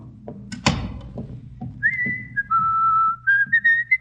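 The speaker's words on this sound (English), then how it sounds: "Do you think you should whistle so loudly" A person whistles loudly in a hallway, a few sustained and sliding whistled notes after some footsteps and a thump, close and clear with no talk.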